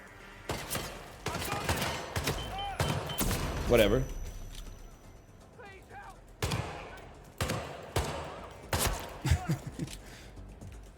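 Sniper gunfire in the video game Hitman, several loud sharp shots and bursts spread across the scene among game effects, with a voice speaking briefly in between.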